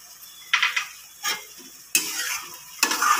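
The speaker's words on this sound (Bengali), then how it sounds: "এখানে আমি এই নারকেল বাটাটা দিয়ে দিচ্ছি" Coconut paste being stirred into a sizzling prawn and jackfruit masala, with several distinct bursts of scraping and frying noise between short quieter gaps.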